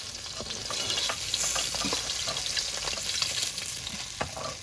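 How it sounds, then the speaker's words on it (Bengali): Pieces of katla fish frying in oil make a steady, close sizzle with scattered crisp pops and a few stirring taps, even and continuous from start to finish with nobody speaking. "এবার বাকি মাছগুলো এভাবে ভেজে নেব"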